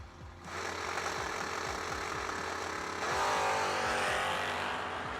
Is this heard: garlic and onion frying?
no